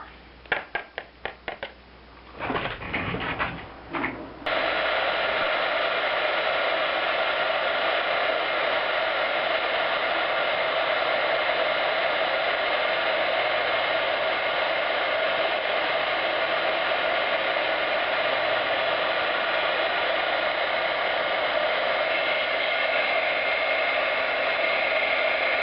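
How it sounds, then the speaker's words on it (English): A heat gun melting clear embossing powder on a Christmas card gives a steady, close blowing hiss that runs on evenly after a few seconds of handling clicks and rustles. "now I'm going to heat it"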